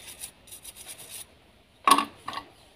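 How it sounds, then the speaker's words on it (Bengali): A small brush dipped in petrol scrubs rust off the contact points inside a faulty electrical switch: a run of quick, close rasping strokes, a pause, then two louder scrapes, with no talking. "সুইচের ভিতরের পয়েন্টটাকে আমি একটু পেট্রোল দিয়ে ঘষে দিচ্ছি"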